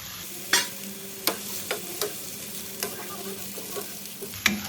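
Tomatoes stir-frying in a pan with reduced liquid for a Thai pickled fish dip, a steady close sizzle broken by scattered sharp scrapes and taps of the spatula against the pan.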